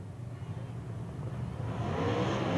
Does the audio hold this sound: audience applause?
no